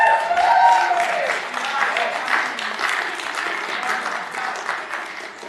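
Audience at a Clark County Commission meeting breaks into sustained applause, a dense broadband clapping wash that holds steady for several seconds, with an earlier voice briefly audible over it at the start.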